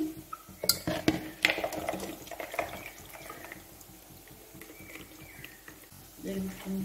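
Boiled kabuli chickpeas are strained from a pot in a kitchen, with metal clanks and knocks, sloshing water and a few scrapes, loudest at the start and quieter toward the end.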